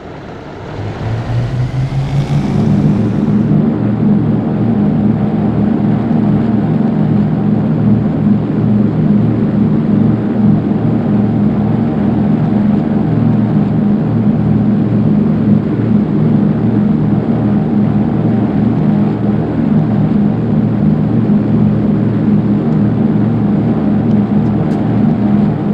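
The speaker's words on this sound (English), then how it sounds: "let's power up our two Armstrong Siddeley Cheetah X radial engines" Two Armstrong Siddeley Cheetah X radial engines, 350 horsepower each, on a simulated Airspeed Oxford twin-engine aircraft run up from idle to a loud, steady, droning roar that holds for the rest of the take-off run, with no talk.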